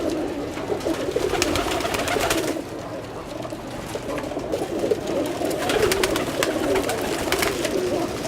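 A loft of Kake-breed pigeon hens coos steadily in overlapping low calls, with occasional rustling, close by and with no talk over it.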